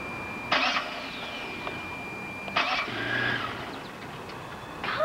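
A car engine cranks in three short, sharp bursts spread apart, failing to catch each time, with a suspected spark plug fault; no voices are heard.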